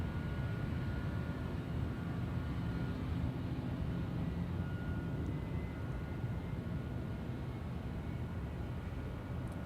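An Atlas cargo airplane that has just arrived at Ted Stevens Anchorage International Airport gives a steady, distant, low jet rumble, a broad continuous roar with no talking.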